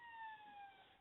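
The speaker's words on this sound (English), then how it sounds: "You can hear the siren in the background." A distant emergency vehicle siren wails with slowly gliding tones, faint and steady throughout, with no voices over it.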